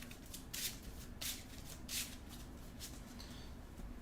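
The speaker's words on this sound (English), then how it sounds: "We will shuffle." Deck of playing cards shuffled during a Marvel Champions card game session, a few distinct riffling bursts spaced over several seconds, close and fairly quiet, with no talking.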